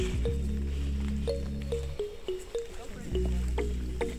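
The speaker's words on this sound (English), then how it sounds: "Well, drips of water then." Scattered water drops plink irregularly in a Guyana rainforest near Kaieteur Falls, over a steady low hum, with faint voices in the background, mostly sparse and close.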